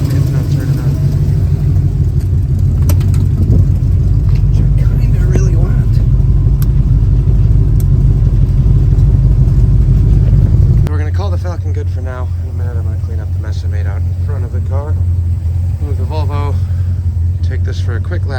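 Engine of a 1964 Ford F100 pickup running steadily and loud through a short drive around the block, a deep continuous rumble that drops in level partway through as voices start talking over it.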